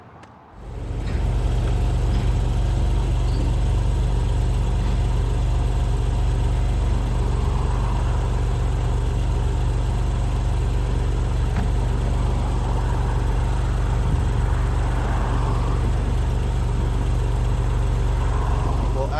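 A 2016 Porsche 911 Targa 4S engine starts and settles into a steady low rumbling run heard from inside the car, constant and close for the whole stretch.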